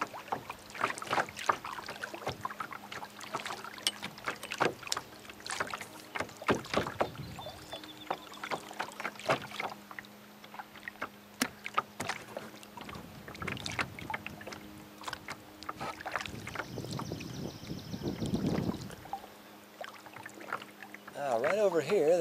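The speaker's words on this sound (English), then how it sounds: "why don't we paddle on over here in the kayak and see what we can find" A kayak is paddled across a lake toward a bog opening: rhythmic paddle strokes dip and splash with trickling drips between them, close by, and a voice talks at times.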